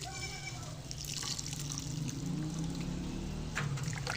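Palm fruit being washed by hand in water, a steady sloshing and trickling wash with faint splashes throughout, close and continuous.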